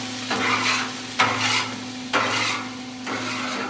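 A metal scraper rasps across a Blackstone griddle in several long, loud strokes, each starting with a sharp clank, over a steady sizzle of grease.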